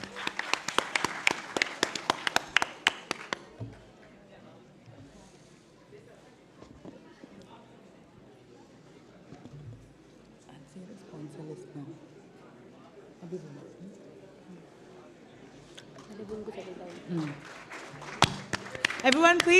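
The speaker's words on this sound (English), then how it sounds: "Everyone, please give a big round of applause for our panelists for today." An audience at a panel event celebrating poetry and music in Indian cinema bursts into loud clapping, which fades under voices and room murmur before a second round of applause swells at the end.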